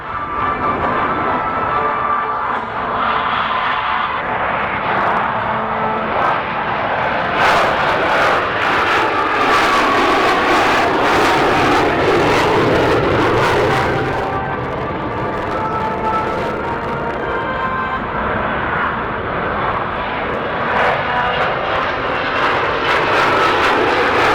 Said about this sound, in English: From the left, the F-35B Lightning II.